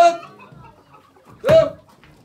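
Chickens and roosters cluck at a poultry auction in Ankara, with a short squawk at the start and a louder, close fowl call midway over faint background voices.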